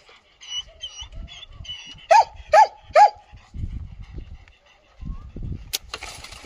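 Three sharp barks from stray dogs at a rescue base, including Akita and Shiba types, come in quick succession mid-clip. Birds chirp faintly before them, and someone talks nearby around the barks.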